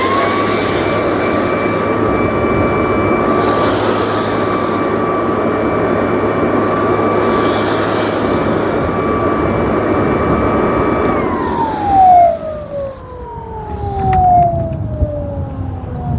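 Ryobi 40V Whisper series backpack leaf blower run in turbo mode, a loud, steady roaring whoosh with a high whine that holds for about eleven seconds, then winds down as the motor spins to a stop.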